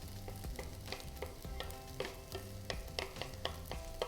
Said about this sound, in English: I'm just gonna start frying inwards